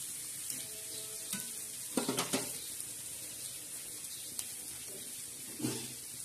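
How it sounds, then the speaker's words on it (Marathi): Egg bhurji sizzles in a frying pan as it is stirred, giving a steady soft fry hiss with a few scraping spoon strokes and clinks against the pan. "हे बघा, अशा प्रकारे आपण हलवून घ्यायची भुर्जी."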